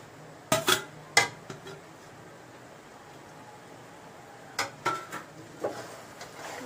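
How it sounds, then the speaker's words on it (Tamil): Cooked egg noodles tipped into a pan of masala for Tamil-style egg fried noodles, giving a few sharp clinks and scrapes of utensil against pan at the start, then a quieter gap and another short cluster of metallic knocks. "நூடுல்ஸ் வேக வச்சு எடுத்து வச்சிருக்கேன் அதை இந்த மசாலா கூட ஆட் பண்ண போறேன்."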